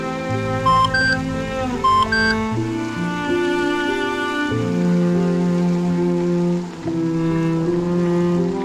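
A phone chimes with an incoming message: two short, bright beeps about a second apart, heard clearly over soft sustained background music.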